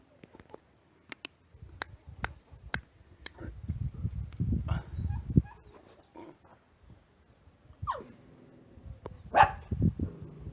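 Three large guard dogs protecting a goat herd attack a solo hiker on a trail near Nebaj, barking sharply in bursts with scuffling and clicks, a few deep growling barks, and loud close cries toward the end.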